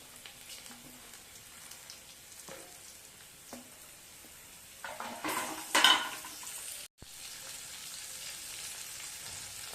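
Crushed garlic, ginger and green chillies frying in oil for Kerala-style mango pickle, a faint sizzle with scattered utensil clinks and one louder stirring, scraping burst midway, no voices.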